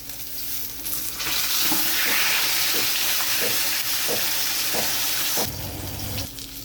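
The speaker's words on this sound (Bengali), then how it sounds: "মাছ 1 পিঠ ভাজা হয়ে গেছে, এবার আমি উল্টে দেব।" Pieces of katla fish fry and sizzle loudly in a hot pan, with a burst of spattering as they are turned over and a few soft scraping knocks from the utensil, no talking.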